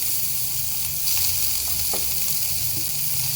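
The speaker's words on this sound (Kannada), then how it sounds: "ಈಗ ಇವಾಗಿದೆ, ಈರುಳ್ಳಿ ಹಾಕ್ಕೊಳ್ತಾ ಇದ್ದೀನಿ" Chopped onions hitting hot oil in a frying pan for homemade mushroom Manchurian, giving a steady close sizzle and hiss that runs through the whole moment with no talking.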